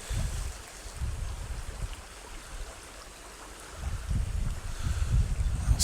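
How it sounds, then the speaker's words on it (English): Bow waves from wading up a small river while fly fishing: a close, steady wash and swirl of water around the legs, swelling louder in slow surges toward the end. "bow waves going up the river here."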